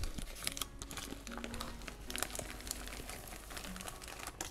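Backing peeled off a fruit-cake base onto a golden cake board, a close, crisp crinkling and tearing of paper that crackles on and off for several seconds with no voice over it.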